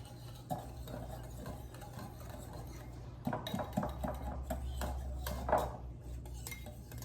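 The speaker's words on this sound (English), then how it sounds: "we're gonna whisk it all together with a tiny whisk" A tiny whisk stirs a sugar and yeast mixture in a small bowl, making quick light metallic clicks and scrapes, irregular and close, over a low steady hum.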